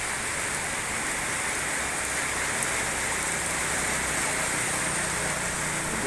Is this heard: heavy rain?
yes